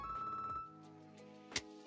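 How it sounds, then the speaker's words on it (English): A short ringtone-like game melody in C major plays on bright electronic tones, a quick run of notes that ends with a sharp higher blip, brief and clear with no talk. "It sounds like a ringtone."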